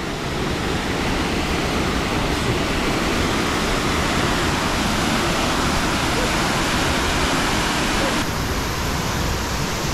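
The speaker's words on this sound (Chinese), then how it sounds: "我们现在在瀑布的位置" A waterfall at a hillside spot in Nantou, Taiwan, rushing loud and constant from close by, its broad roar unbroken, with a voice faintly present beneath it.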